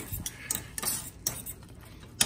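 Utensil stirring a tuna mixture with Italian dressing in a bowl, making light irregular scrapes and clinks at close range, several distinct taps spread across a quiet background.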